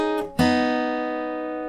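A guitar plays the third pass of a song's riff. A brief muted pluck is followed by a bright chord that rings out clearly and slowly decays.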